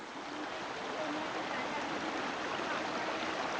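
A creek flows along the Cawleys Road trail in Garawarra State Conservation Area near Helensburgh, a steady, even rush of water with no breaks, heard fairly close.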